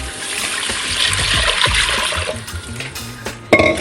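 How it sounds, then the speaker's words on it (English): About four cups of water are poured into an Instant Pot for a hot pot broth, a close, steady splashing trickle lasting about three seconds, ending with a sharp clunk. "And then I'm gonna add 4 cups of water"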